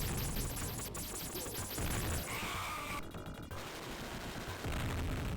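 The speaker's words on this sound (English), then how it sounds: "What I call the Contra gun," Dense bursts of rapid gunfire from the spread gun in the Sega Genesis game Robocop vs Terminator, loud and continuous over game music with a brief crash of effects midway.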